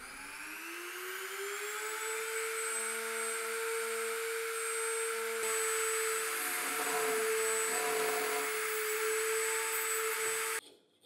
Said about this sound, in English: I'll lower the router and drill the inner holes of the letters.